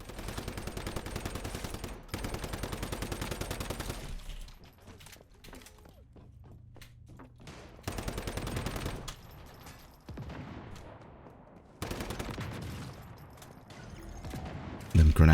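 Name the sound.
gunfire from the video game Once Human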